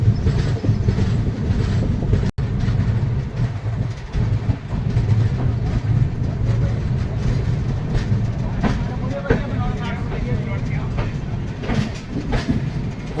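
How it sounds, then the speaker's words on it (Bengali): The Chambal Express, a Howrah to Agra train, runs near Jhansi station with a steady rumble and rolling wheel clatter, carriage noise close and continuous, faint voices beneath. "ট্রেন ঝাঁসির কাছাকাছি এসে গেছে।"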